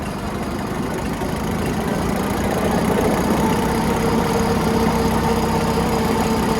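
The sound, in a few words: upgraded tractor engine idling and revving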